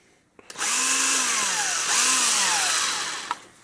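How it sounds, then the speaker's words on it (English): An older Milwaukee 12 volt cordless drill runs at close range, whining up to speed for about a second, dipping briefly, then revving again before stopping, loud and alone. "So this is the Milwaukee drill."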